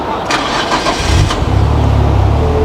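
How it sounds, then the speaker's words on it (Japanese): A Nissan Skyline GT-R BCNR33 with an overhauled engine cranks briefly and fires up, then settles into a loud, throbbing idle close by. "じゃあちょっとエンジンかけますね。"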